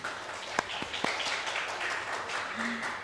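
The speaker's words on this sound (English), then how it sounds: "Dear ladies and gentlemen, please kindly give a big applause" Applause from an English language teaching conference audience, a thin patter of claps fairly distant and modest in volume, with a faint voice near the end.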